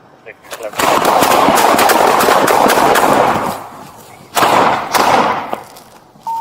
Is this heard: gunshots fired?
yes